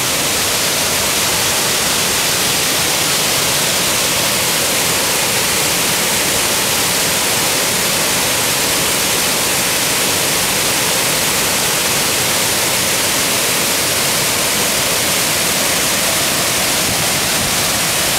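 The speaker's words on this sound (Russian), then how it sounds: "И вот там водопадик, да?" Loud, constant roar of a waterfall in Da Lat, Vietnam, close by, a dense unbroken wash of rushing water filling the whole clip.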